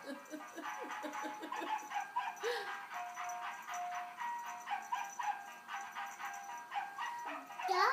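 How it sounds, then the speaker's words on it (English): A small dog yaps in quick, repeated bursts of high barks, fairly close, with laughter and a person's voice mixed in between. "he just wants to bark at you, doesn't he?"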